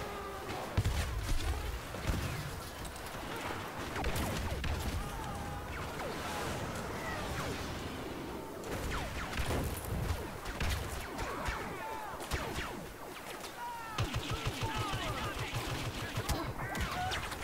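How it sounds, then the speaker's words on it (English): Rapid gunfire and heavy booming cannon blasts crackle amid a dense, chaotic Star Wars Battlefront beta battle mix, with a voice shouting over the din. "Oh, he's shooting the cannon."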